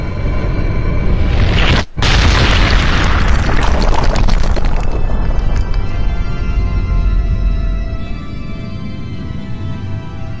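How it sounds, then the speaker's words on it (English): A colossus explodes in the video game Shadow of the Colossus, with a loud, sustained booming roar after a sharp break, then a long rumbling decay that gradually fades. "Every time a Colossus goes boom. Implosion, explosion, oblivion!"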